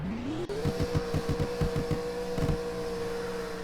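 A car engine in the Greenville driving video game revs hard several times in quick succession, loud and close, then settles back to a steady idle drone.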